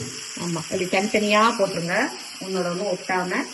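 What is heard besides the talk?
chicken pieces frying in hot oil, sizzling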